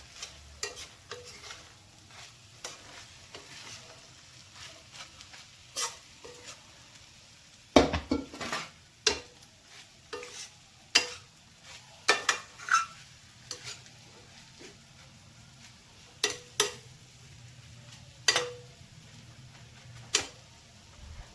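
Rice being mixed with paneer and masalas in a pot for biryani: sparse, irregular clinks and taps of a spoon against the pot over a quiet background, occasionally clustered, close and moderately loud.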